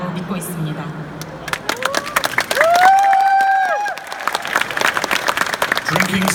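Audience at a comic-con panel claps and cheers, with a burst of whoops rising mid-clip over steady applause, and speech heard at the start and end.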